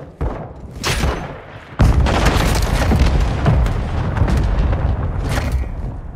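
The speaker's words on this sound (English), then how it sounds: "Hostile mortar strike in the area." Hostile mortar strike in Call of Duty MW2 multiplayer: a heavy boom lands after a brief pause, followed by a sustained rumbling barrage of overlapping explosions and debris, loud and close.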